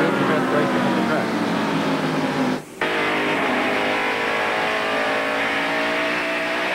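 NASCAR stock cars at the 1993 Bud 500 roaring down the straightaway, a loud continuous engine drone with a brief dip near the middle, under a commentator's voice.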